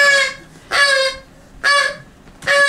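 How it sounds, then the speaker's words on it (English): A goose gives four loud, nasal honks close by, spaced about a second apart, with quiet gaps between them and no talk. "The goose."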